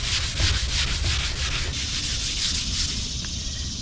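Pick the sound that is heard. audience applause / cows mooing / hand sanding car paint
hand sanding car paint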